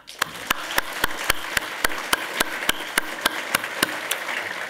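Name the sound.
applause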